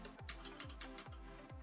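Quiet, steady typing on a computer keyboard, a rapid run of key clicks at an even rhythm with no voices.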